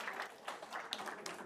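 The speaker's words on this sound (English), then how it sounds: "Let's give him a round of applause." Faint applause from an audience at a business school event, a soft steady patter of many hands clapping for about a second and a half with no talk over it.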